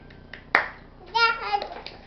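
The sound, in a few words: child clapping hands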